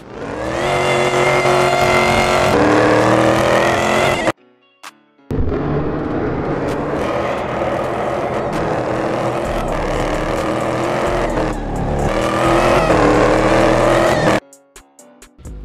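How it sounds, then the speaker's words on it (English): A Corvette engine roars and revs hard in the Roblox racing game Pacifico 2, with gear shifts and a brief cut in sound partway through. "This Corvette, the sound is like unreal"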